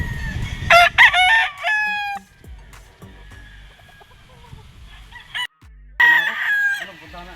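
A straight-comb Harold Brown Gray gamefowl rooster crows several times at a breeding farm, loud, close calls separated by pauses, with other fowl calling in the background.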